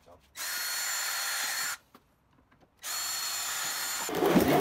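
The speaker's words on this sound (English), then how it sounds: "these are the screws I drilled right here" Power drill on a Volkswagen Golf GTI Mk7, driving screws through a Maxton front lip splitter into the plastic bumper: two long steady whirring bursts separated by a short pause, close and loud, with a clatter at the end.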